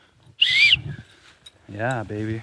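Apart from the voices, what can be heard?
blowing a rusty whistle found at a campsite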